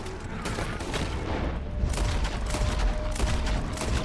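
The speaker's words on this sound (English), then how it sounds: "Your guns are getting overheated." Rapid gunfire in Red Dead Redemption 2, a dense continuous volley of heavy shots with deep booming low end, loud and close, without pause.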